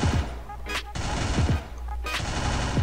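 MP5 submachine gun fire in a mobile shooter game, played through an emulator: short, sharp bursts of rapid shots that repeat several times in quick succession, loud and close over a constant background hum.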